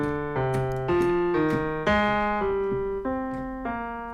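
MIDI guitar driving a synth lead, playing a smooth melodic sequence of sustained target notes one after another, loud and clean with no talking.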